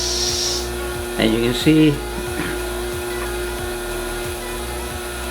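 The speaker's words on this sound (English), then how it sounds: "I'll turn it on. Got a small vacuum pump there." A small vacuum pump hums steadily beside a wood lathe while bowl turning, a constant mechanical drone with faint rhythmic ticking, as someone speaks briefly over it.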